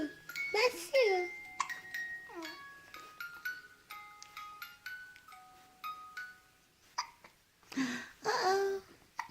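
An excited little girl hiccups again and again in sharp, irregular bursts, mixed with her babbling and bits of laughter close by.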